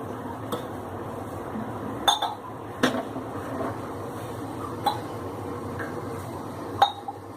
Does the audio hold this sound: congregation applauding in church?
no